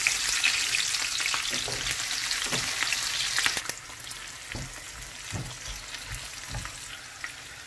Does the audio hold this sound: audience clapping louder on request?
no